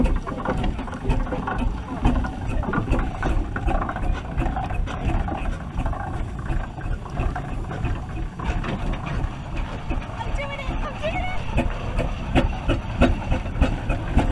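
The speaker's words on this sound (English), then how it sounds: "Mind that steam engine in front of you." A steam traction engine runs with a steady mechanical rumble throughout, busy and close, with clattering and chugging textures layered over a low drone.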